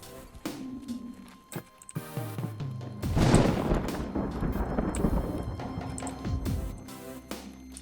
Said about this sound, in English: Sorry about the storm, guys.